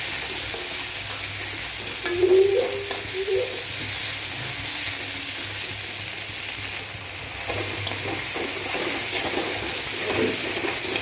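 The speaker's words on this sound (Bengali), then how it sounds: "আবার খুন্তি দিয়ে একটু নেড়ে নিচ্ছি।" Duck meat with ginger-garlic paste sizzles in a pan while a spatula stirs it, a continuous moderate frying hiss with a few scraping strokes and no speech.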